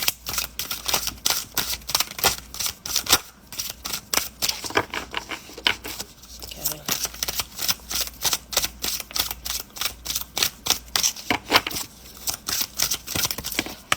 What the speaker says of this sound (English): Try to shuffle an odd number of times.